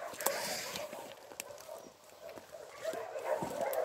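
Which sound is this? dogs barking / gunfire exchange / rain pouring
dogs barking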